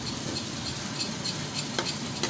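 Milk poured into browned ghee for pumpkin halwa, bubbling in a steady, close, moderately loud sizzle, with stirring scrapes and a couple of sharp clinks near the end.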